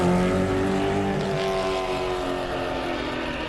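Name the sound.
car engines roaring in Mad Max video game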